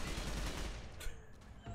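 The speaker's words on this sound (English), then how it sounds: "I just hear gunshots." Gunfire crackles in the Fallout: New Vegas video game, a rapid, muffled volley of shots at moderate distance that tapers off into a couple of separate bangs.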